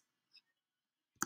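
A single sharp computer mouse click lands close and clear near the end, preceded by a fainter brief tick, with quiet in between.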